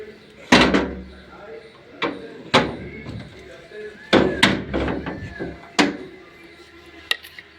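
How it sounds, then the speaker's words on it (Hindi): Several heavy thuds and bangs as a door is shut indoors in a home kitchen, sharp knocks spaced irregularly over a few seconds with some lighter rattles between them, loud and close, with no one speaking. "पहले ये बंद कर देते हैं दरवाज़ा।"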